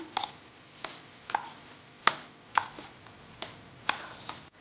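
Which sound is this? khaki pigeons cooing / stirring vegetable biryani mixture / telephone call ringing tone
stirring vegetable biryani mixture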